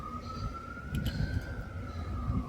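A steady wailing police siren tone drifts slowly up and down over a low rumbling background in New York. It sounds some distance away.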